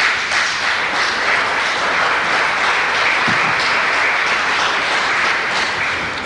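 An audience at a lecture on Aramean identity claps in sustained, loud applause, a dense steady roar of many hands continuing without a break.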